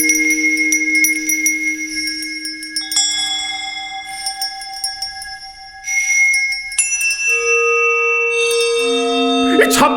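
Bells ring out in a musical audio drama of A Christmas Carol, with layered clanging and chiming tones that sustain and overlap, building to a dense cluster of strikes at the end.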